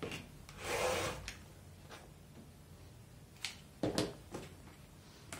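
Scissors trimming excess fabric lining from a patchwork clutch while sewing, giving a soft rubbing swish followed by a few brief, quiet snips and rustles up close.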